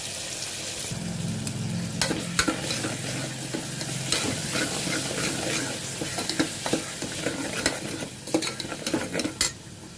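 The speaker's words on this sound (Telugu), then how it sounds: "ఫస్ట్ కారం అయితే బాగా వేయించుకోవాలి" Red chili powder fries in hot oil for an Andhra anapaginjalu pulusu curry, a steady loud sizzle with repeated scraping and clinking of a spoon stirring against the pan throughout.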